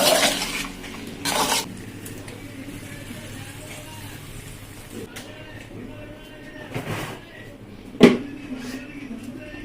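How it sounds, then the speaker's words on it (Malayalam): Beef roasting in a pan being stirred and mixed with a metal utensil, with scraping and clinking of the spoon against the pan at intervals and a sharper knock near the end over a low background hum. "നന്നായി അവരെ മിക്സ് ചെയ്ത് ഇങ്ങനെ എടുക്കുക"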